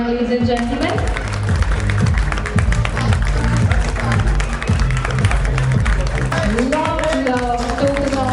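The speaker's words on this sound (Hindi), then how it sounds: "जोरदार तालियां हो जाए लेडीज एंड जेंटलमैन।" Audience applause at a lively stage event mixing real estate and entertainment, with loud clapping running throughout under music and a voice.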